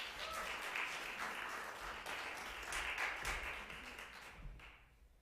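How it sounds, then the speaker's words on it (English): An audience applauds at an evening spoken word performance for a Martin Luther King Jr. series, a steady, fairly close wash of clapping that fades out at the end. "Give her a round of applause."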